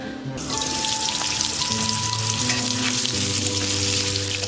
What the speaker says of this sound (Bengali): পটলের পরে ভাজা হলো পনির, হালকা লবণ দিয়ে।